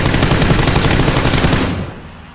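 Loud, rapid automatic gunfire from a video game rattles in a dense burst for almost two seconds, then cuts off, leaving a fading tail.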